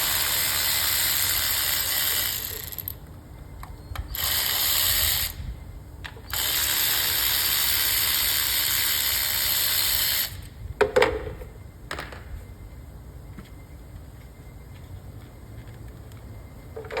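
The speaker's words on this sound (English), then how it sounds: "I'm going to take out the rest of the 10 millimeter bolt." Ratchet wrench working a 10 mm bolt off an ignition coil on a 2009-2014 Acura TSX, giving bursts of rapid clicking in several runs separated by short pauses, close and fairly loud, with a few clunks near the end.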